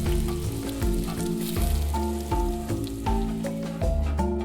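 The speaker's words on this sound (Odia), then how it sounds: "ଏବେ ତାକୁ ଭଲ ଭାବରେ ନାଲି ହେଲା ପର୍ଯ୍ୟନ୍ତ ଭାଜିବା।" Spices fry in a kadai for chicken biryani, a loud, constant sizzle and crackle with repeated stirring scrapes and rhythmic taps of a spoon against the pan.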